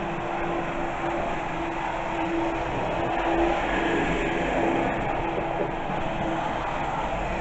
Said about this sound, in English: they've been talking about getting this high-speed Amtrak through here for years now